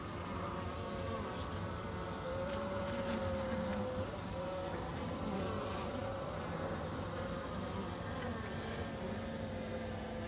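Honeybees droning steadily inside an opened hive, a dense continuous buzz at close range with no talking, holding an even level throughout.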